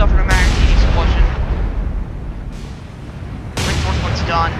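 Heavy booms and cannon fire ring out as a ship's magazine explodes during a naval battle in the War on the Sea video game, with loud sharp blasts at the start and near the end over a continuous rumbling din.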